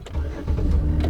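A car engine cranks and catches in a brief, close burst, turning over into a rumbling start.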